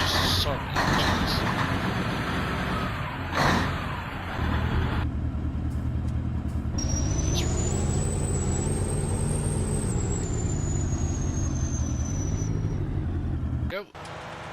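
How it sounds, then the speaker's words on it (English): In Farming Simulator 19, heavy farm vehicle engines crank and then settle into a loud, continuous rumbling idle, with a rising whine in the middle. A voice talks over them. "So just start the engines."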